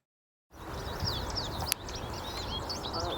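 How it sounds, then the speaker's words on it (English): Several birds chirp and sing in a cluster of spruce trees in early spring, bright repeated calls fairly close over a steady outdoor background hiss, with one sharp click midway. "Some people would take these down, but the birds sure love them. Listen to them."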